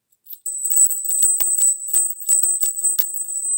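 Sharp repeated taps strike a small Buddhist bell, keeping a clear, high, steady ring going under a flurry of light clinks and rattles, close and moderately loud.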